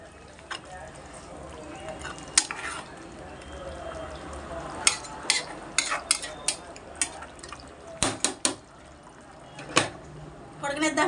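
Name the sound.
stirring a fish curry in a pot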